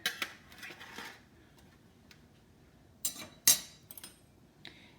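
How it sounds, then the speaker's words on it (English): Roasted spaghetti squash flipped over in a pan, giving a few sharp clinks and clatters of utensil against cookware near the start and again around the middle, with quiet gaps between. "So what I'm gonna do is just go ahead and flip it over."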